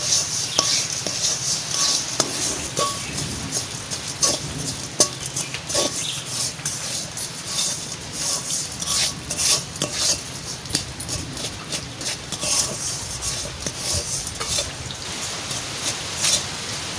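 A spoon scrapes and clinks against a kadai as sugar is stirred for papaya laddu, a close, continuous rhythm of metallic taps and scrapes over a grainy hiss, with no speech.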